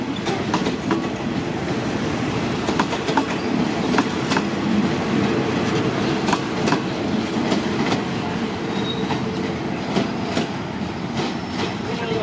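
A suburban train rolls into Bang Sue station in Bangkok, its wheels clicking rhythmically over rail joints under a steady loud rumble, with a faint brief squeal.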